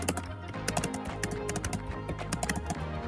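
A passport number is typed on a computer keyboard while filling out a visa application form, producing quick, close, crisp key clicks in an uneven rapid patter, with no voice.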